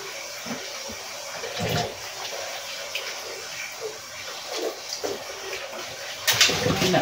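Tap water runs into a sink during late-night dishwashing, a faint, uneven splashing with soft clinks and knocks. The flow wavers and surges louder near the end.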